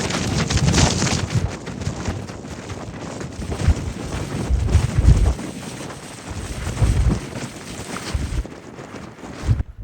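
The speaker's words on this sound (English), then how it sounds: "The wind's bad." Strong wind on a snowy North Pennines hillside buffets the microphone in loud, gusty roaring waves, close and continuous with surges and brief lulls.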